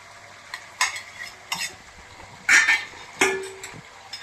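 Chicken sizzles in a frying pan while a spatula stirs and scrapes it, several distinct close clatters and scrapes punctuating a soft, continuous frying hiss.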